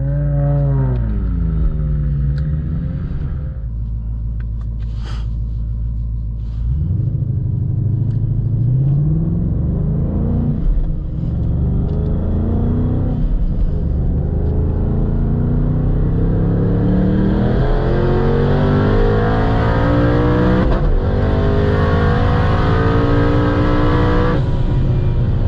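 Supercharged stick-shift Ford Mustang with a 3-liter Whipple blower, around 770 wheel horsepower, revving loud and close with repeated rising pitch sweeps, a steady heavy rumble and sustained high-revving roar, no talk.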